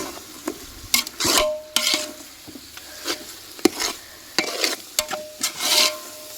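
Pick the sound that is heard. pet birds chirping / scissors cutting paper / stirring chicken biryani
stirring chicken biryani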